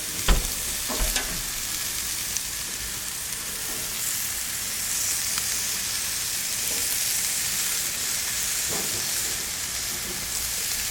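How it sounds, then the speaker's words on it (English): Peameal bacon sears in a hot pan, giving a steady loud sizzle throughout with a few light clatters near the start. "puts a nice chop there, nice little sear as it goes on, and we're just going to pop them on"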